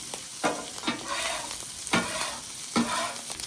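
Sausage and vegetables sizzle steadily on a griddle, with a few louder bursts of spatula scraping and stirring at regular intervals, close and fairly quiet, with no talking.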